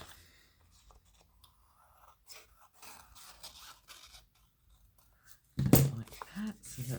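Scissors trimming paper for junk journal notebook inserts: quiet rustling and handling, then a sharp, loud cutting crunch near the end.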